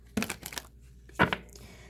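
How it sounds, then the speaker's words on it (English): A deck of tarot cards is shuffled in two quick bursts of papery riffling and crinkling, close and fairly soft, separated by a brief pause. "One more shuffle."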